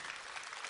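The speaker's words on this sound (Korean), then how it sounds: "이렇게 많이 박수 보내주시고 응원해 주셔서 대단히 감사합니다" Brief, faint wash of concert audience applause at a 7080-era music show, steady dense clapping lasting under a second.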